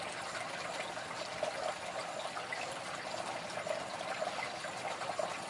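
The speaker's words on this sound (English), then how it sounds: "Hear the drops." Water drips and trickles in a soft, continuous patter, faint and fairly distant, with a few slightly brighter drops standing out against the steady flow.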